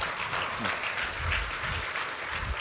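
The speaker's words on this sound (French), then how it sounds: "On peut l'applaudir bien fort." Audience applause thanking a speaker at the end of a TED-style talk, a dense, sustained patter of many hands clapping at moderate level, continuous with no talk over it.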